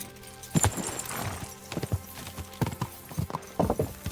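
Rhythmic hoofbeats of a horse galloping in the video game Kingdom Come: Deliverance II, steady clip-clop thuds over a continuous background hum.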